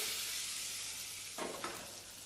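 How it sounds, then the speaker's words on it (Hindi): Curry leaves dropped into hot oil for a tadka, sputtering and crackling as a steady close sizzle with a couple of brief sharper bursts. "इसमें डालेंगे कड़ी पत्ता, जिसको हम 10 से 15 सेकंड चटकने देंगे"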